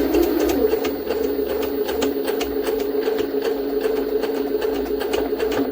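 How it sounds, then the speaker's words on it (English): A Jaguar SJ-23 sewing machine stitches through a stack of 30 layers of thick material, running as a steady loud mechanical whir with rapid needle ticks throughout, close up and without talk. "We'll try to sew it now with this machine."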